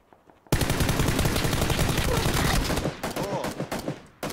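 Rapid automatic gunfire in PUBG (PlayerUnknown's Battlegrounds) bursts in loud and close after a brief quiet start, sustained spraying fire with a few separate shots near the end, with faint voices underneath.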